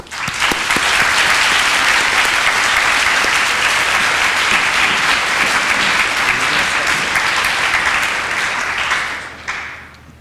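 A large audience gives sustained, loud applause that welcomes a panel of economists, a dense clapping wash lasting about nine seconds before it fades quickly.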